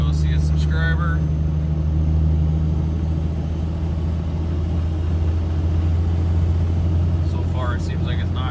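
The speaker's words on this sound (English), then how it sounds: "Got my 28-foot trailer behind me. Loaded down with the side-by-sides" Cummins diesel pickup on 38-inch tires with an 8-inch lift, towing a loaded 28-foot trailer carrying side-by-sides down the highway; a loud, constant low engine drone and road rumble fills the cab, with brief talk at the start and end.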